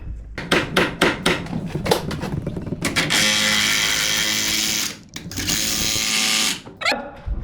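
A drill bores through tough material on a farm, with sharp knocking hammer-like impacts early on, then a sustained grinding whir that cuts out briefly and resumes, all loud and close.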